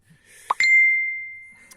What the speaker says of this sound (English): Sorry, I forgot to put my phone on silent for some reason.